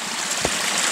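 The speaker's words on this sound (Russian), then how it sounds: "Вот это тот самый водопад, который течет из последнего, из самого верхнего." A waterfall pours from the uppermost lake into the middle one, heard as a steady, soft rushing wash of water with one brief splash.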